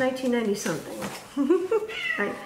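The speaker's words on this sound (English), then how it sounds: "that's my cat." A house cat meows several times in a short clip, close and fairly loud, its cries overlapping with someone talking.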